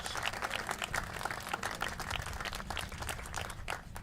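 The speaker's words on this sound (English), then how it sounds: "Let's give them all another round of applause." Crowd applause at a Buffalo post office renaming dedication honoring a female veteran: a sustained, fairly faint patter of many hands clapping, steady throughout, with no talk over it.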